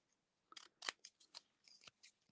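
Scissors trim the edge of a paper envelope in a quiet room, a run of crisp close snips and paper rustles at an uneven pace.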